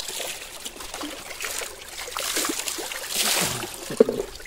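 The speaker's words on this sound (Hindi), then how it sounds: "ये देखो छोटी सी नदी आ रही है" A small cold mountain stream trickles and flows steadily at moderate level, with a few brief splashy knocks near the end and no talking.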